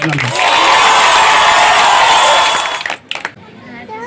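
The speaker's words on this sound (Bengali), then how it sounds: "একবার জোরে হাততালি হয়ে যাবে" A crowd at a school event applauds a student who ranked first in Class Nine at Loreto St. Mary's, a loud, dense burst of clapping and cheering that lasts about three seconds before cutting off into a few stray claps.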